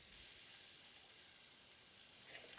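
Potato pancake sizzles quietly in a frying pan, a soft steady crackle with an abrupt clink at the very end.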